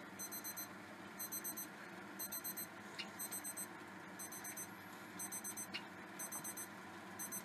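A beeping alarm clock sounds in repeated bursts of four quick tones, regular and steady at moderate distance, over a low background hum, with no talking.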